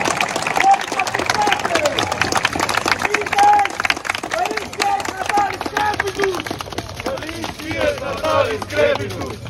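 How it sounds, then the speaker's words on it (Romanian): Crowd at a historical reenactment event in Romania clapping irregularly while people talk and call out nearby, the applause scattered and mixed with lively voices throughout. "hai să-l aplaudăm"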